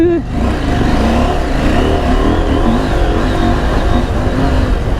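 A KTM 890 Adventure R motorcycle engine in rally mode, loud and close, revving up and holding a rough, rising drone over the whole stretch, with wind noise and no clear speech.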